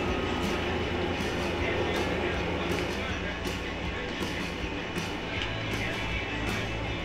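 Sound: freight train passing in a farming video game

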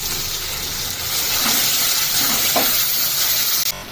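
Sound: ginger garlic paste and turmeric frying in oil

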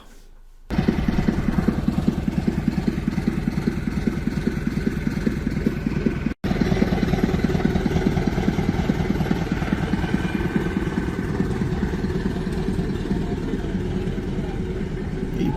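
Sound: locomotive engine running

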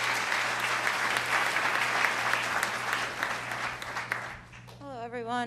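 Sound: audience applause

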